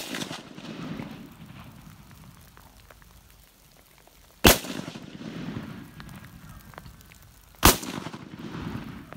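Two sharp pistol gunshots fired at a target outdoors, spaced several seconds apart, each a loud crack with a short decaying echo over low background noise.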